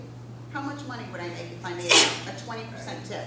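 One sharp, loud sneeze bursts out close by midway through a conversation at a restaurant, while people keep talking around it.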